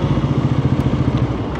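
Bajaj Pulsar NS400Z motorcycle ridden on Mumbai city roads, its engine giving a steady, close, rumbling drone with a fast pulsing beat throughout.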